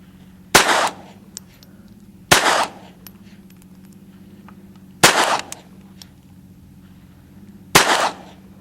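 Four sharp .22 pistol shots from a Ruger SR22 or Walther P22, fired outdoors at spaced intervals of roughly two seconds, each loud crack followed by a short echoing tail over a steady low hum.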